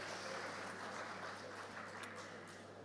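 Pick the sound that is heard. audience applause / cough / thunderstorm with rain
audience applause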